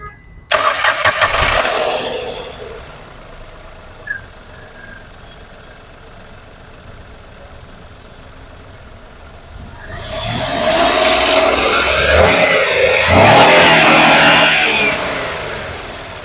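A 2018 Datsun petrol car starts with a sharp crank and catch, then idles steadily close by, and a loud rev swells near the end with no talk over it.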